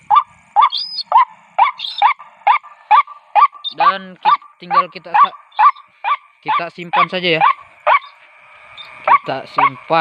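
Repeated rhythmic calls of a white-breasted waterhen play through a speaker, loud and steady, while a person talks briefly in the middle.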